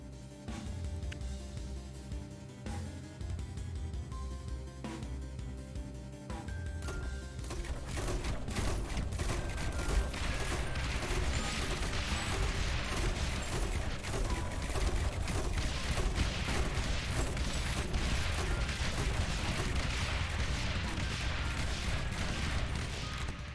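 Mortar towers in Rogue Tower fire in a rapid, sustained barrage, a dense crackle of overlapping shots and booms that builds after a quieter start and stays loud and steady.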